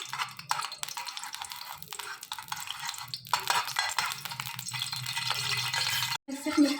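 Ghee sizzling and crackling in a pot on a gas stove, a steady bright hiss with scraping stirring noises, close and moderately loud, with a brief cutout near the end.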